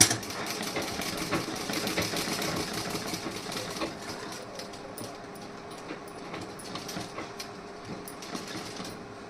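A sewing machine puts running stitches into a blouse sleeve and back panel decorated with beads, a rapid rhythmic clatter that is loudest at the start and then continues more softly in uneven bursts.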